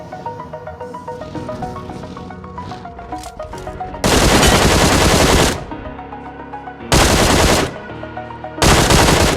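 Bursts of automatic gunfire from PUBG, the battle royale video game, come in three loud broadband blasts over a steady musical backing track, each burst lasting about a second or more.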